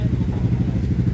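Motorcycle engine with a carburetor out of tune, running loud and steady at close range with a rough, clattering pulse throughout, no talk over it.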